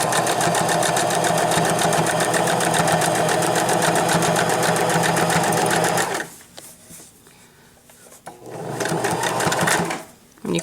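A sewing machine stitches a pillow seam with a fast, loud, steady mechanical whir, pauses briefly midway, then starts up again near the end.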